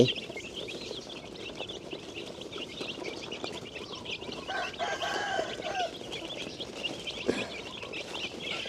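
Chicks cluck and peep steadily at close range while being fed termites and seed grain, a continuous busy chatter of small birds with a few louder calls rising above the mix.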